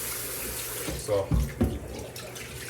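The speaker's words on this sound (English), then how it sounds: "for the chicken, you just want to rinse it off in some warm water" Warm tap water runs steadily into a sink while raw chicken is rinsed under it, with a couple of louder splashes partway through and a brief word spoken over the flow.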